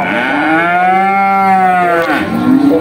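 A cow at a livestock market in Bekonang gives one long, loud, close moo lasting a couple of seconds, with faint market noise around it.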